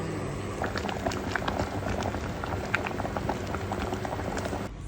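Potatoes boil in a pot with a steady, close bubbling and popping that runs unbroken throughout, with no voices.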